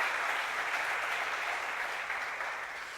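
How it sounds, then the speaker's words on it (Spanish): A church congregation claps together in sustained applause, a dense, even wash of hands that starts strong and slowly fades over a few seconds. "Denle un aplauso al Señor."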